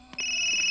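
A cell phone in the video game Yomawari: Midnight Shadows begins ringing with a bright electronic tone that sounds steadily after a brief click, close and clear.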